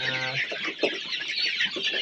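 A flock of about 170 two-month-old village chickens on a small farm cluck and call noisily for food before feeding, many overlapping calls forming a steady, busy chatter.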